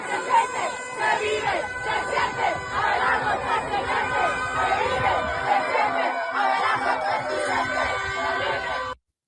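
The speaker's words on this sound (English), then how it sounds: "huge parades through the streets of Bogota tonight. Supporters waving flags, marching in the street" A large crowd cheering and chanting at a nighttime street parade in Bogota, a dense roar of many voices with rising shouts throughout, cutting off abruptly at the end.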